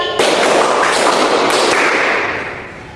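A classroom of students clapping together in a rhythm game during a lesson, a loud, dense burst of hand claps close by that fills the moment and fades toward the end, with no talking over it.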